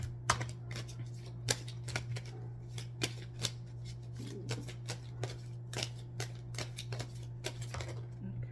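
Tarot cards being shuffled close by, a string of quick crisp riffling snaps at an uneven rhythm over a steady low hum, with no talk in the clip.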